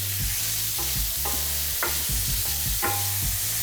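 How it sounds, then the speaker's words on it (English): Sausage fries in a pan for an Italian boscaiola pasta sauce, a close, constant sizzle broken by repeated scraping and stirring knocks of a utensil against the pan, with no voices. "We're gonna fry the sausage."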